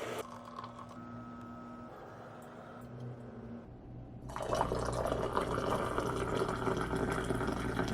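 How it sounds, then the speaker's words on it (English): Coffee being made in a kitchen: a machine whirs and hums quietly, then a louder steady pour and brewing hiss takes over for the second half. "let's get some coffee going"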